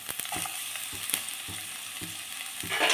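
Chopped onion, garlic and ginger frying in hot oil in a pan give a steady close sizzle, broken by the regular scrape and knock of a spoon stirring roughly every half second, with no talking.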